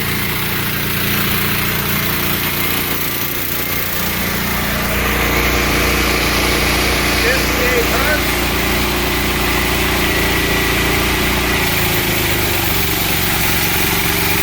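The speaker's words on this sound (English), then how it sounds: "I think the compressor just kicked on" A Wen portable generator runs steadily close by while powering an air conditioner, a constant loud engine drone whose tone and load shift slightly as the compressor kicks on, with voices talking over it.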